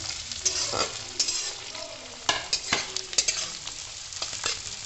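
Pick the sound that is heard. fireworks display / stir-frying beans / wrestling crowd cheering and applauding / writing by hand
stir-frying beans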